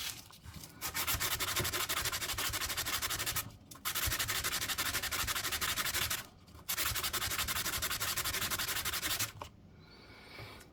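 Sandpaper rubs steadily against a ring made from an old Australian bronze one penny coin, in three long, close, even scraping bursts separated by short pauses.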